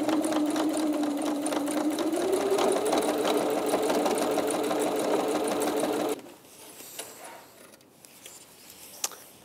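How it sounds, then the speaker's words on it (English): A sewing machine runs in a steady fast whirring stitch along the edge of teddy bear dungarees, close and continuous, then stops abruptly, leaving faint handling clicks and rustles. "we've sewn all around the edge of our dungarees"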